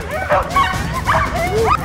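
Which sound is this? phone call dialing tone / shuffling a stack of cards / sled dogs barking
sled dogs barking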